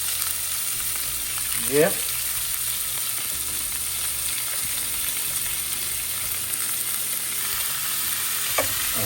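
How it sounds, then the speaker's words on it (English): Sea bass sears in a pan of olive oil and butter, giving a steady close sizzle throughout with a couple of brief scraping stirs, and a voice says one short word near the end. "And all we're doing is searing it"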